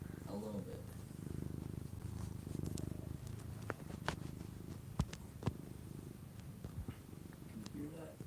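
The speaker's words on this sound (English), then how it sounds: "Silly kitty cat." A pet cat purrs steadily in a low, continuous rumble close by, while people talk quietly over it and a few sharp clicks and taps punctuate the background.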